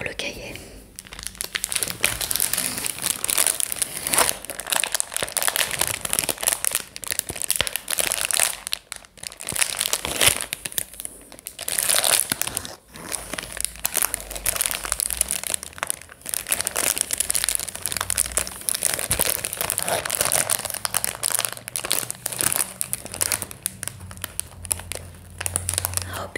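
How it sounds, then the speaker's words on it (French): Paper crinkles and rustles as a coloring book is opened up close in a quiet ASMR-style setting, with irregular crumpling and tearing-like bursts while a soft voice talks throughout. "On va peut-être ouvrir le cahier."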